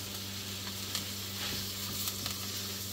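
Calf liver sizzles as it fries in a pan, giving a steady bright hiss with small scattered pops throughout and no talking.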